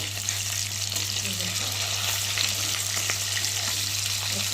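Rohu fish pieces fry crisp in hot oil, giving a steady, dense sizzle and crackle with a low hum beneath it, close and continuous throughout.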